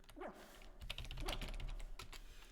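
Small dog barking in the PC adventure game The Colonel's Bequest, a few sharp yips over a low hum, with keyboard typing clicking throughout.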